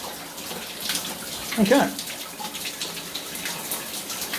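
Water from a shower patters and drips steadily in the background, a soft continuous wash with one brief louder splash midway, while a person speaks a short word.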